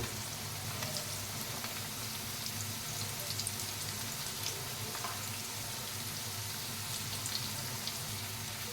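Rava-coated evening snacks fry in hot oil, a dense, continuous crackling sizzle with fine popping bubbles that holds steady and close throughout, with no voices.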